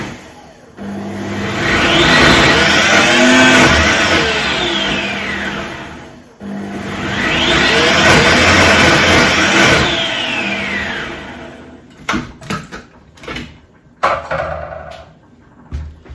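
A food processor blends vegetables at top speed with a turbo boost, a loud, close whirring roar that swells and holds in two long runs, followed by clatter and brief knocks.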